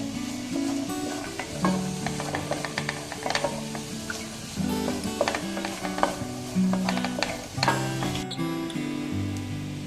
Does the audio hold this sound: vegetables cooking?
yes